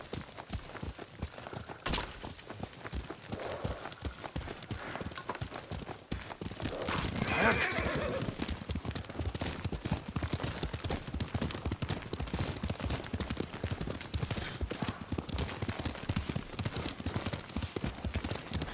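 Steady clip-clop of a horse's hooves moving at pace in the video game Ghost of Tsushima, with an occasional whinny, the rhythm continuing throughout over a dense background.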